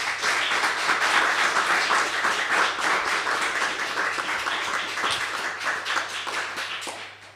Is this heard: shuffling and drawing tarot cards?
no